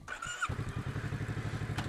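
A motorcycle engine fires up after a brief starter whir and settles at once into a steady, close, rapid idle thump that continues to the end.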